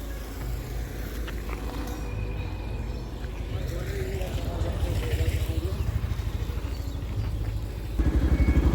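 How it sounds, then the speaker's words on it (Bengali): A motorcycle engine is started and idles nearby, a steady low throbbing rumble that grows slightly louder and more pulsing toward the end. "এই যে বাইক স্টার দিচ্ছে আসতেছে"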